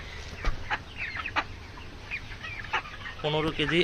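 Broiler chickens being weighed in a group of ten on a poultry farm cluck and squawk in short, scattered bursts close by, with a louder run of clucking near the end.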